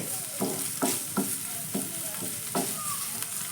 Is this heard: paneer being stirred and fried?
yes